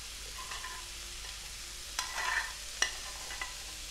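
Stewed cabbage is tipped into a frying pan, giving soft hissing sizzle and a few sharp scraping clicks of a utensil against the pan, fairly quiet with no talking.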